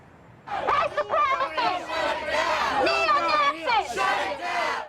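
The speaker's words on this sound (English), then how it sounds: "Manatee deputies in riot gear worked to control a crowd of hundreds, two rival groups face to face" A crowd of hundreds of protesters, two rival groups face to face at a Confederate monument, yells and chants in loud overlapping shouts that swell and surge continuously, with no single voice standing apart.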